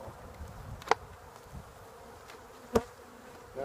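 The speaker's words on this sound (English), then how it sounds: "Not the number of bees I'd like to see, but live bees nonetheless." A faint, low buzzing of honey bees hovering close by at a hive during a late-winter inspection, with a couple of soft clicks and knocks over the quiet hum.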